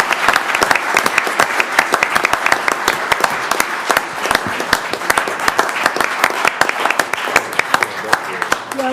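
A city council meeting audience claps, loud and close, with distinct individual hand claps in an uneven rhythm throughout, and voices chatting underneath.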